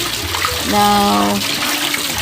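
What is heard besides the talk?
rinsing hand-washed laundry in water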